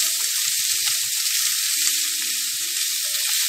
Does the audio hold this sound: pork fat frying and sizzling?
yes